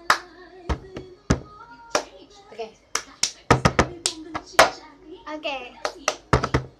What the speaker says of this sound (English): clap two times, like, and then one, two, three